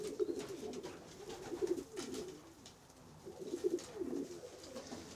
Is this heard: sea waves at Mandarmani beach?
no